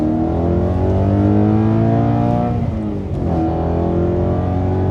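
A BMW E92 M3 engine revs hard toward 6,000–7,000 RPM, its steady harmonic roar climbing, briefly dipping at a shift, then pulling again, loud and close from inside the car.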